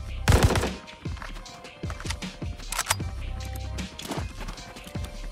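Rapid bursts of automatic gunfire from Warzone fill the stretch, loud sharp volleys up front followed by scattered single shots and shorter bursts against ambient game noise.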